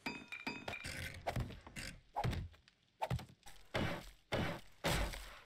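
Series of hollow wooden thunks and knocks while a ladder is rebuilt in the survival game 7 Days To Die, about eight separate hits at irregular intervals, close and fairly quiet.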